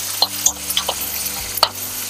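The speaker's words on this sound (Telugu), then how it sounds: "టమాటోస్ వేసేసాము. ఫ్రై చేస్తాం." Tomatoes frying in a pan for instant tomato rice, with a low steady sizzle broken by a few sharp clicks and scrapes of stirring.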